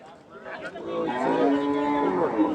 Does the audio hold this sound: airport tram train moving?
no